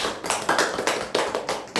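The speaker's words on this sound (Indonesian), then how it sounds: "Tepuk tangan dulu" Hands clap in a quick, loose rhythm of about seven sharp, close claps, spaced fairly evenly with no talking over them.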